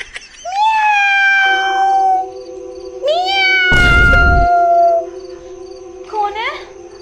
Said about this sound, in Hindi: बिल्ली आएगी यहाँ पे, म्याऊं म्याऊं कर रही है